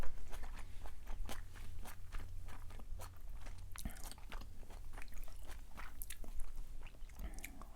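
Someone bites into and chews spicy jalapeño peppers, giving steady close crunching and mouth sounds throughout, with no talking.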